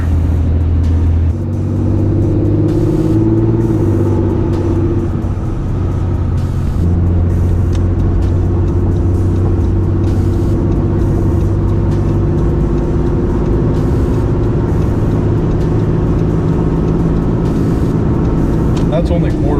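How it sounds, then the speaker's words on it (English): A 6.7 Cummins diesel truck engine idles with a deep, steady rumble, then revs at about quarter throttle, its pitch rising and easing in quick, responsive swells, close and loud, with someone talking over it. "That's only quarter throttle. This Cummins is just so responsive."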